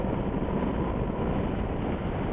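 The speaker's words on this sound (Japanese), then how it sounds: "この状態トップギア6速をホールドしたままスロットルを大きく開けてみたいと思います" A Yamaha XT1200ZE Super Ténéré (2015) accelerating hard in sixth gear from about 85 km/h, the 270-degree crank twin giving a loud, steady engine drone heavily buffeted by wind roar, with no voices.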